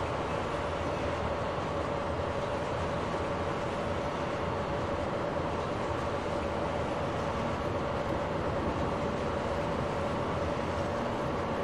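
In Train Simulator, an ICE train set hauled by a class 103 locomotive runs under LZB control toward Münster, giving a steady, even rolling rumble and wind noise with a faint constant tone, without any voices.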